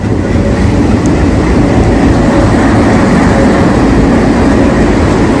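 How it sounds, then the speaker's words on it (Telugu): Seven Hills Express train arriving at platform 4 of a railway station, a steady loud low rumble of rolling wagons continuing throughout without voices. "ఫైనల్లీ 7 Hills ఎక్స్ప్రెస్ ప్లాట్ఫారం 4లో వచ్చింది"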